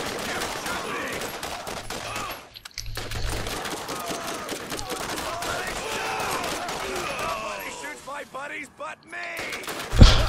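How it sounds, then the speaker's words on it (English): Sustained automatic gunfire from the shooter game Borderlands rattles in dense rapid bursts at a bruiser turret, with short pauses, while someone talks over the shooting. "Shoot the fucking bruiser turret"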